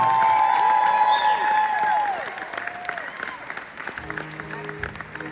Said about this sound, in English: They deserve the biggest round of applause of the night, seriously.